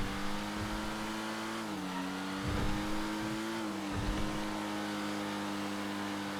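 Engines roar steadily from GT1 and GT8 class race cars in a multi-class GTA FiveM race, with pitch shifts and brief surges as cars overtake. The sound is continuous and fairly loud, with no talking.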